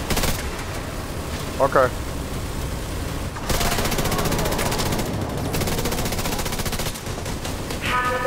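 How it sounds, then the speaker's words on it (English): Loud bursts of automatic gunfire rattle against a turret in the shooter game The Division 2, sustained and near with brief pauses, while a voice speaks briefly between volleys. "I'm shooting the turret."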